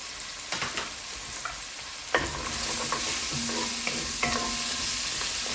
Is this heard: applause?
no